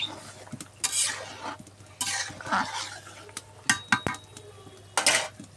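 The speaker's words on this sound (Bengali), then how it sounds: "ঢাকনা খুলে দেখবো আমার তরকারি আরও হবে" A metal lid clanks and pans clatter over a pot of beef curry with sweet pumpkin, with stirring scrapes and sharp clinks spread through the clip in uneven bursts, close by and moderately loud.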